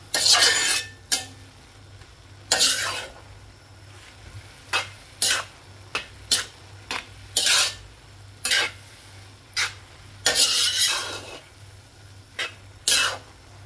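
Bihon noodles with fish balls and shrimps get tossed in a hot pan, with repeated sharp scraping and clattering stirs over a quiet, steady sizzle, close up and with no voices.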